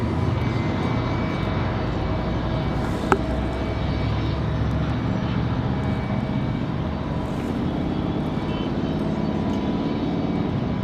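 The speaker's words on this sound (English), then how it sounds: "Delta 1608 off to Detroit" A Delta jet taking off from Raleigh Durham International airport for Detroit produces a steady, loud engine roar with deep rumble, broken by one sharp click partway through, with no talk.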